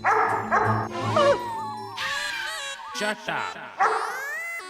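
A dog yips and whines in a string of short, high, strained calls, close and loud, mixed with voices talking around it.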